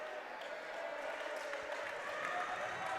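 Garfield fans at a girls' high school basketball game against Roosevelt roar and cheer in a steady wash of crowd noise that fills the gym, with a commentator talking over it.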